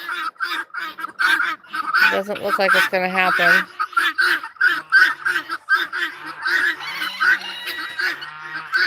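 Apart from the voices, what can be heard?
ducks quacking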